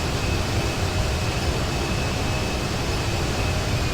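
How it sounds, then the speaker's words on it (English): An airplane engine roars while landing in the video game Grand Theft Auto 5, a loud, steady jet drone that holds constant throughout with no talk. "As you see, the plane is making its own adjustments to stay on target."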